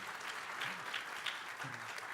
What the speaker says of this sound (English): Let's give them another round of applause just to say thank you for coming, both.